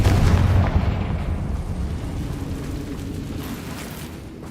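The Confringo fire spell in Hogwarts Legacy detonates in a heavy booming blast, loud and close at the start, then a rumbling tail that fades slowly away over several seconds.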